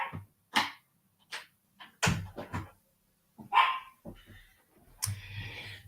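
A dog barks excitedly in repeated sharp bursts with yips and whimpers, close and loud, reacting to noise indoors near a door.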